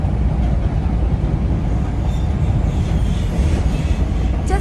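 Steady, loud low rumble of a train car rolling along the rails in Chicago, continuous throughout with a faint squeal near the end and no talking.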